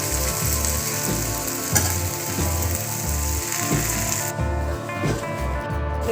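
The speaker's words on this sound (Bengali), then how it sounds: "নাড়াচাড়া করে আবার একটু কিছুক্ষণের জন্য এটা ঢাকা দিয়ে দেবো" Bhindi masala (okra) fries on low heat in a pan, with a steady sizzle under rhythmic clattering scrapes as it is stirred repeatedly, close up and with no voices.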